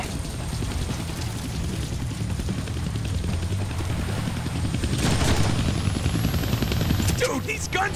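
Helicopter in the Deadpool video game, a steady low rotor thrum throughout with rapid gunfire bursts and a rising whine near the end, heard under game voices and speech.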